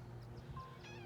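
A cat meows faintly in a garden among lettuces and lilies, a few short, soft calls at a distance over a low steady background hum.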